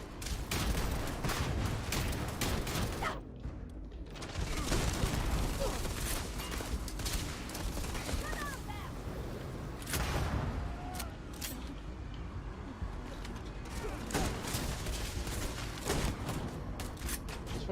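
Sustained gunfire in the Starfield video game, with dense bursts of rapid shots and booms rolling on and off over a long stretch, loud and close, under a constant layer of game noise.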